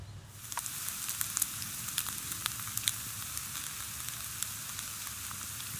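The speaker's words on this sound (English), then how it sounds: "Simmering away. Looks fantastic. That egg's cooking through." An egg sizzles and simmers in a pan from a new camping cookset, a steady close frying hiss with scattered pops and crackles throughout.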